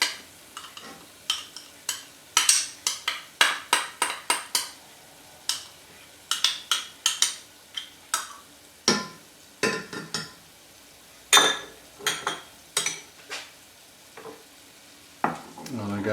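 Spoon stirring tomato ketchup into a wine and sugar BBQ sauce in a pan, a run of short scraping strokes and light clinks with a faint sizzle underneath, close and fairly quiet, no voices.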